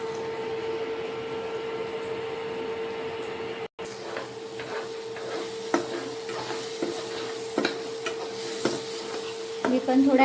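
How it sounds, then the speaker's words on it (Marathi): A spoon stirs paneer bhurji made from homemade paneer in a pan, giving irregular scraping strokes over a steady low sizzle and hum. "हेल्प बोलला तर चम्मच घ्यायचा आणि फक्त हलवायचं."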